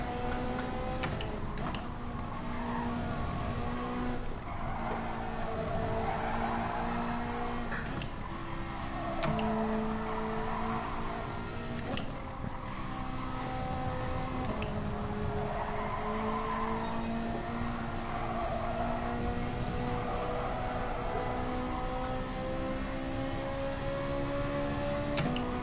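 Race car engine in a Suzuka racing game, a steady high whine with repeated gear shifts and pitch drops, as if sliding through a corner, with faint ticking and tire scrub underneath, continuous and fairly close.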